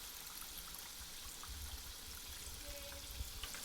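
Goan fuggias, spoonfuls of batter frying in hot oil for a Christmas meal, give a steady soft sizzle and crackle with faint bubbling throughout, close and fairly quiet, with no voices.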